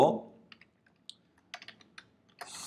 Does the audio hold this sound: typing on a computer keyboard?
yes